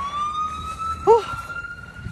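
A police car siren passes on a cold street, its steady rising wail holding throughout at moderate distance, with a brief warbling yelp in the middle and a person talking beneath it.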